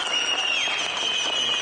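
Crowds applaud health workers during the early-2020 pandemic, with dense, steady clapping and high whistles running through the whole short stretch.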